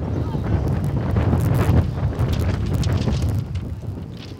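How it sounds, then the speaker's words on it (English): Strong wind gusting during a dust storm at an outdoor high school softball game, a loud continuous roar and buffeting against the microphone that swells and eases over a few seconds. "As we get a little dust storm right here, this very windy day blowing directly at us."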